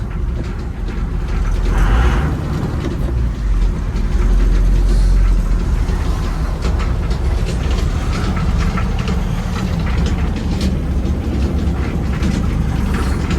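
A John Deere tractor engine runs steadily after a cold start, a loud continuous low rumble with a rattling, clattering texture throughout and no speech.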